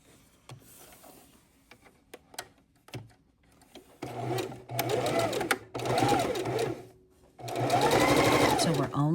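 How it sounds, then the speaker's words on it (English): Sewing machine stitching through two layers of fabric for a pillow, quiet ticks and rustles at first, then three loud whirring runs of stitching separated by short pauses. "So we're only sewing through 2 layers of fabric at a time."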